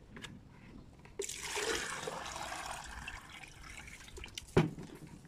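Water is poured into a measuring container in a steady, rushing stream that starts suddenly and runs for several seconds, then tapers off and ends with a brief splash.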